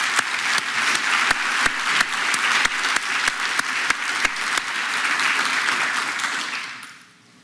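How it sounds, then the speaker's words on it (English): An audience applauds the graduating Class of 2024 at Cleveland Clinic Lerner College of Medicine. Dense, sustained clapping with a few sharp individual claps carries on for about seven seconds, then fades out. "So another round of applause for this class."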